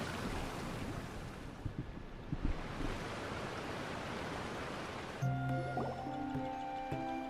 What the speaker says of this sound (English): that's a lot of water filling back up